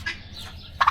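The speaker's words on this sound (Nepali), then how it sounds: "Turkey breeding" Turkeys at a turkey breeding pen in Saudi Arabia let out a short, loud burst of gobbling near the end, after a faint call at the start.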